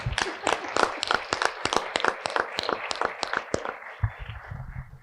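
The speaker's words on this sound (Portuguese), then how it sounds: "vamos aplaudir o personagem." Clapping breaks out in a live talk-show audience, a run of distinct hand claps that gradually thins and stops, followed by a short burst of speech.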